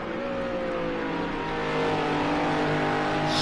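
Multiple GT3 race car engines in a sim racing round at Algarve, a steady blended drone of several engines at sustained high revs, loud and continuous with a slight rise in intensity partway through.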